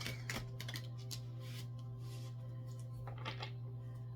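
Crisp, repeated riffling of tarot cards being shuffled in short bursts close by, over a steady low electrical hum.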